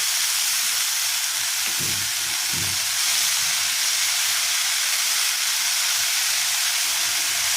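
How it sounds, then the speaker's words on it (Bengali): Kalmi greens fry in a pan with a loud, continuous hiss and sizzle, broken by a couple of soft stirring scrapes early on. "শাকটাকে ভালো করে মিশিয়ে দিচ্ছি।"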